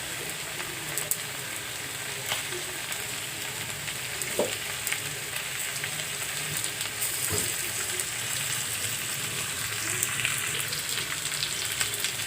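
Chicken pieces frying in a pan, browning in hot oil with a steady close sizzle and crackle running throughout, with no talking.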